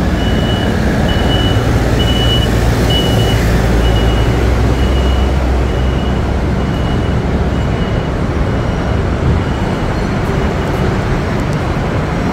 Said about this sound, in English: I'm just going to stand in one place until this truck decides.